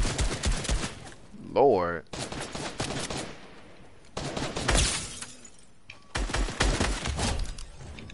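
Bursts of video game gunfire from computer bots shooting at one another, repeated volleys and rapid fire in short clusters, with a player talking over parts of it.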